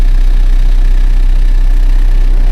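Tractor engine running at about minus one degree on a wet spring farm, a loud, close, unbroken low idling rumble with no voices.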